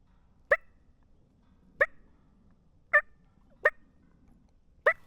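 Wild turkey hens give sharp putts and clucks outdoors. Five short, loud calls come at irregular intervals of roughly a second, each standing alone against near silence.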